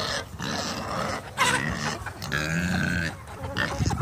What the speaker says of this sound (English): the pigs are being a little rambunctious